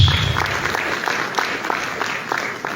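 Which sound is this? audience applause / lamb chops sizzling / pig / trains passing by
audience applause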